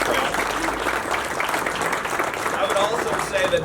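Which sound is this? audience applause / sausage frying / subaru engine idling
audience applause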